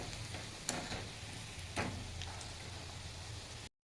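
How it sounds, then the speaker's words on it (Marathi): Small hurda balls fry on a low flame in oil, giving a steady soft sizzle with a couple of faint clinks of stirring, before the sound cuts off abruptly. "छान मंद आचेवर असे तळून घ्यायचे."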